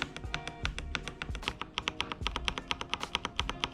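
Rapid typing on an Attack Shark K86 keyboard fitted with Akko Crystal Pro v3 switches: a steady run of crisp, close keystroke clicks, with a few heavier thocks from larger keys.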